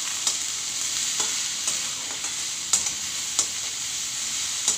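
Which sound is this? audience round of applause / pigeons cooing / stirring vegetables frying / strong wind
stirring vegetables frying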